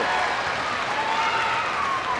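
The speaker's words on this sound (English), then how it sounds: "They hear them in the background cheering for their team." Fans at a high school basketball regional championship game between Central Cass and Richland cheer for their team, a steady dense roar of crowd noise in a gym with clapping mixed in, filling the whole moment.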